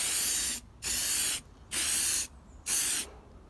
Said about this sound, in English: Now time to do some spraying.